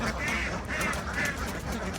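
Many ducks quacking together in a continuous noisy chorus, fairly close and loud, with overlapping calls throughout.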